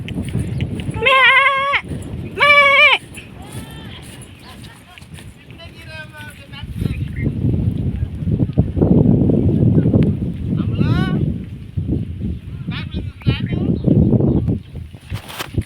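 Goats bleat loudly nearby, two strong wavering cries and then fainter ones, while people talk and move about over a rumbling background.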